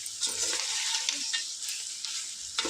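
Ginger frying in a pan for boti fry gives off a steady high sizzle across the whole stretch, with a few soft scrapes of stirring and a sharper clink near the end.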